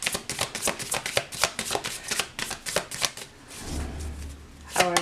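A deck of tarot cards is riffled and shuffled in quick, crisp bursts close to the mic, followed by a low hum and then one last shuffle.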